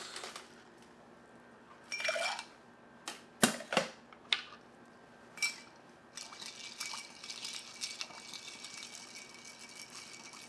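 Ice cubes clink and rattle in a glass as a bourbon cocktail is stirred, a few sharp, close clatters followed by lighter, quieter tinkling and swirling.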